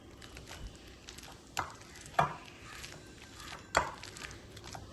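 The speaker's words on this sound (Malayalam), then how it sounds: "ഇതുപോലത്തെ തവി കൊണ്ടോ അല്ലെങ്കിൽ കുണ്ടൻ സ്പൂൺ കൊണ്ടോ അങ്ങനത്തെ ഒടിച്ചെടുത്താൽ മതി" Ingredients crushed in a pan with a ladle or deep spoon: three separate dull knocks at uneven intervals over faint scraping, close by, with no speech.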